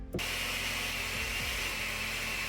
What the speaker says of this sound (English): Bringing out the dollar store blender.